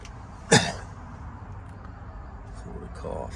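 A single sharp cough, close and loud, in a quiet room, followed by faint background sounds and a soft murmur near the end.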